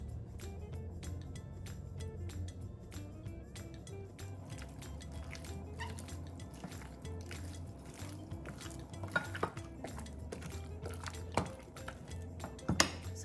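Two egg whites being mixed in a bowl, with a steady run of quick, close clinks and taps of a utensil against the bowl over a low background hum.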